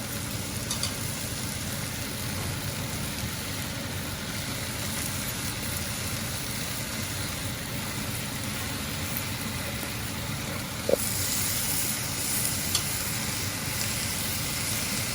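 Pumpkin greens dropped into a hot frying pan sizzle steadily, a constant hiss of frying with a faint clink partway through and no speech.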